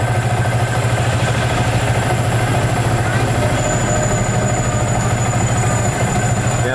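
A Yamaha Vixion motorcycle engine idles steadily, its low, even putter running loud and close throughout, set to a stable idle after adjusting an unsteady rising and falling idle.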